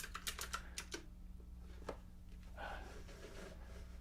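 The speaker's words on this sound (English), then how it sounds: "It's a weird shape and it moves around too much, this keyboard." Fingers type on an oddly shaped computer keyboard that shifts around, producing quick clusters of soft clicking keystrokes near the microphone, with pauses and a low steady hum beneath.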